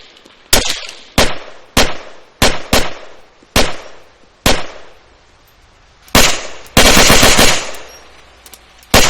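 Sharp bursts of MP40 submachine gun fire in Arma 3 ring out in short, irregular volleys, ending in a longer sustained burst; crisp, loud, and with no talking.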